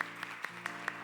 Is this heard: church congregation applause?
yes